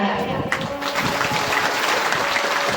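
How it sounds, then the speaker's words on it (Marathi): Applause from a devotional gathering at a Bhagavat katha discourse after a song, a thick, steady burst of many hands clapping that fills the short stretch evenly and fairly loudly. "टाळ्या"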